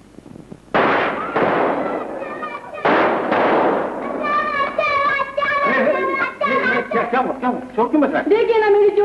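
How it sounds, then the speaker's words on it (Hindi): Firecrackers tied to a woman's braid go off as a run of loud, close bursts and crackles over the first few seconds, followed by laughter and lively voices that carry on above them. "देखिए ना, मेरी चोटी से पटाखे बांध दिए।"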